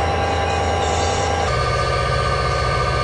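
A train passes in the Train Simulator 2013 game on the Marias Pass route, producing a loud, steady rolling rumble of railcars and wheels that runs continuously throughout with no voices.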